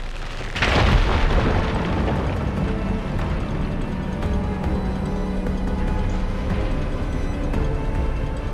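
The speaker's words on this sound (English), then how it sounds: "Igniting that fire beam should clear it." Fire beam igniting and blasting rubble in Horizon Forbidden West, a sudden loud boom early on, followed by a sustained rumbling roar of debris and fire that lingers steadily to the end.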